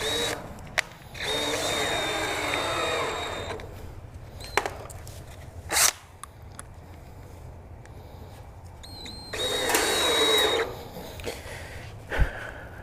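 A power drill drives screws into the wooden boards of a DIY raised garden bed, with several separate bursts of whirring, some brief and a few longer runs, close by with quiet pauses between them.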